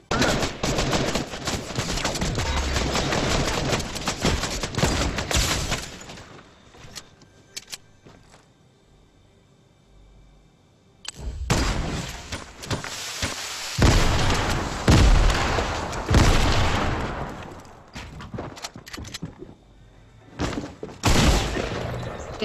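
Heavy bursts of gunfire and booming blasts from a Fortnite match rise and fall in loud clusters, dropping to a quieter stretch midway before the shooting resumes; no talking is heard.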